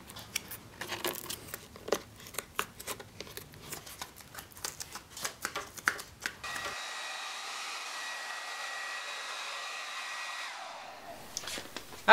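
A hair dryer runs in a steady whir as it heats skateboard grip tape, preceded by crackling, scraping handling of the grip tape on the deck; the dryer cuts off near the end.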